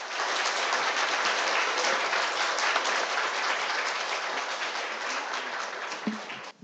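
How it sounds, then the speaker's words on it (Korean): An audience at a socialist political conference in Korea gives a sustained, dense round of applause that holds steady and strong throughout before thinning slightly at the end. "큰 박수 부탁드리겠습니다."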